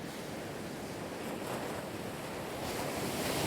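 Ocean surf washing onto an Illawarra beach after a big set, the water foamy and white; a steady, loud broadband wash with wind noise, swelling slightly toward the end, no talking.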